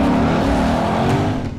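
A Lexus RC F race car roars along a track at night, its engine droning loud and close for a brief pass with a hint of tire noise.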